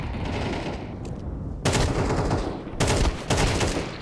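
Gunfire crackles in a Counter-Strike match between GamerLegion and MOUZ at IEM Melbourne 2025, with several loud bursts of rapid shots separated by short pauses over a constant background din.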